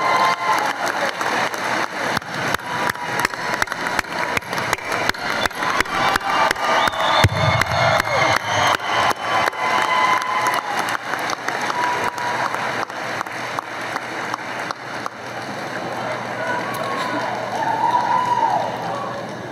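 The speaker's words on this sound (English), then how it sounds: "your family, friends, faculty, staff give our 2023 graduates a round of applause" Large graduation audience applauds and cheers steadily as graduates throw their caps, dense clapping continuing for the whole stretch with crowd voices mixed in.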